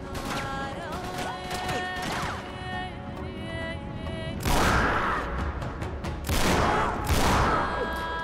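Bursts of gunfire in Uncharted 3 come as two heavy, loud volleys of rapid shots that crash over a droning, buzzing game soundscape.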